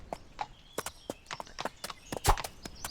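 Donkey hooves clip-clop in a quick, uneven rhythm in a medieval fantasy video game, The Bloodline, sharp and fairly close, with a louder knock near the end.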